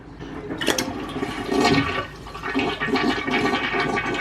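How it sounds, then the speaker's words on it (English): A household toilet flushes as its tank empties, with a steady rush of draining water and swirling gurgles lasting several seconds, close by with no talking. "now we're gonna give the toilet a flush to empty out the tank here"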